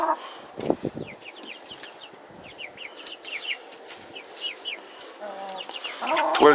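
A rooster and chickens cluck and call in a farmyard, with a run of short repeated clucks and a louder rising cry near the end.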